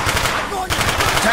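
Rapid automatic gunfire in Call of Duty: Black Ops on Veteran difficulty, loud close bursts of shots with a brief pause midway before the firing resumes.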